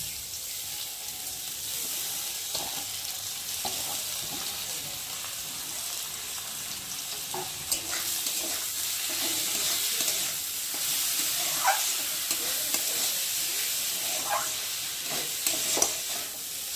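Washed shyama rice fried and stirred in oil with raisins for payesh, a steady soft sizzle with scattered scraping clicks from the spoon, close and moderately quiet, no talking.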